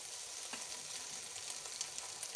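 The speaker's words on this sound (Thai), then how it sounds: "อันนี้ก็คือกระเทียมก็ลงผัดไปเรียบร้อยเรียบร้อยแล้วเนาะ" Garlic stir-frying in a pan for a home-style Thai ivy gourd and egg dish makes a quiet, steady sizzle with soft crackles, and no talking.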